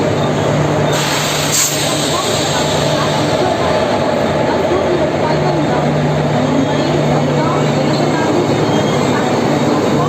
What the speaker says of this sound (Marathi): ही गाडी one two zero five one down Mumbai Bhadgaon Janshatabdi express आहे